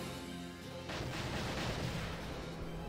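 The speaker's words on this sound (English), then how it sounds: "that's a lot of explosions" Explosions in the video game Valkyria Chronicles, a low steady rumble that swells into a louder broadband roar of blasts partway through, sustained rather than sharp.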